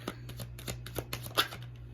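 Tarot cards being shuffled during a reading, a quick run of soft papery riffles and taps, close and fairly faint, over a steady low hum with no talking.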